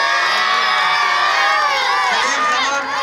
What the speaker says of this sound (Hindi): इसलिए तालियां बजाइए प्लीज।